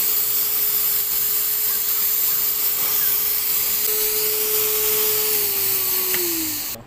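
A portable electric spray paint gun, which needs no air compressor, sprays with a loud, steady whirring hiss, like a vacuum. Its motor tone holds level, then sags in pitch just before it cuts off.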